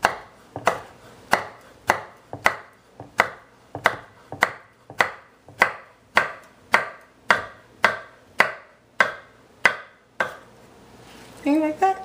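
A knife chops a vegetable into thin strips for a salad on a cutting board, about fifteen steady, evenly spaced strokes, close and crisp, ending in a brief rustle of handling.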